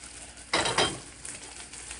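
Thyme, scallions and onions are stirred in a cooking pot for Jamaican corned beef and butter beans: a brief burst of scraping and sizzling, then quieter stirring.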